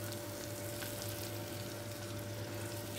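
Sugar melting and starting to caramelize in a pot for a chocolate-coated caramel tart, giving a steady, soft sizzle with a low hum beneath, close and continuous without any voices.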